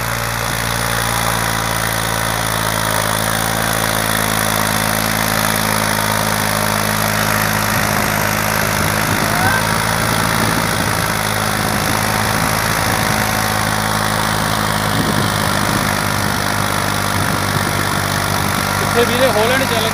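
Farmtrac 60 and New Holland 3600-2 tractor engines running under load, a loud steady low droning rumble with constant engine hum throughout, while someone talks over it.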